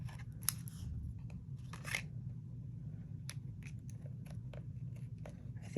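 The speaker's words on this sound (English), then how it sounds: "I think my scissors have to be sharpened" Scissors snip and trim cardstock for a handmade birthday card, giving a quick run of sharp, close crunching cuts with short pauses between them and no talking.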